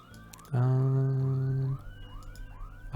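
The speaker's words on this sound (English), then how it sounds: "There's an alarm in the background." An electronic alarm blares loudly at a steady pitch for about a second, then fades to a quieter, repeating rising chirp that keeps cycling in the background.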